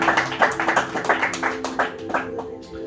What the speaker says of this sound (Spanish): Dale un fuerte aplauso a esta palabra.